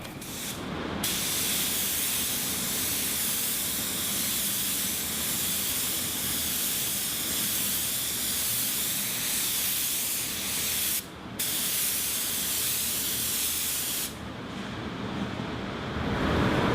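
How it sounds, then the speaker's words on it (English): A paint spray gun applies Cromax Pro basecoat in a long, loud, continuous hiss, with two brief pauses where the trigger is released before spraying resumes. "my plan is to spray to a wider area first with a blending coat"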